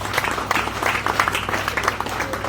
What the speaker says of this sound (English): Clap for me now, it's not free.